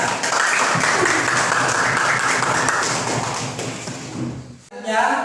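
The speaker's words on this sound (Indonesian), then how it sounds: "mari tepuk tangan jawabannya" A classroom group claps together in a broad, even wash of hand claps that holds for about four seconds and then fades, before a voice begins to speak.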